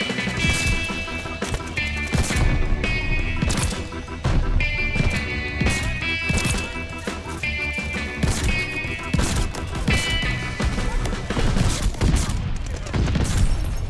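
Rapid gunfire from Call of Duty Vanguard with a diamond SVT marksman rifle, sharp repeated shots cracking in irregular bursts amid explosions and impacts, loud and dense throughout, with a voice talking over it.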